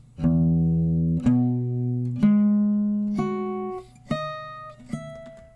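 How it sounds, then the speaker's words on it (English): Six plucked guitar tones ring out one after another, each a clear bell-like harmonic sustaining and layering over the previous ones. "These overtones are fifth, major third, major ninth, and major seventh"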